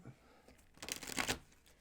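A deck of tarot cards shuffled by hand indoors, a brief soft riffle of flicking card edges rising to a quick flurry and then fading, close and fairly quiet.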